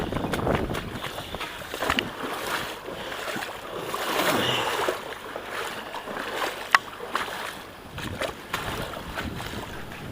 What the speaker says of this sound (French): Le vent s'est levé méchamment.